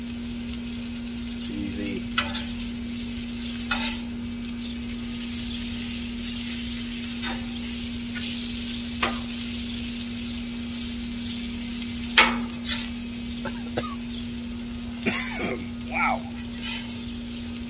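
Hash browns sizzle steadily on a Blackstone griddle, a constant close frying hiss with occasional scrapes and flips, while a man makes brief remarks over it.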